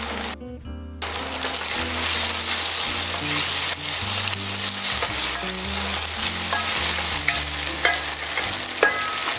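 Young chicken pieces with porcini mushrooms fry in a pan for a fricassee, giving a steady loud sizzle with stirring scrapes throughout, and no talking over it.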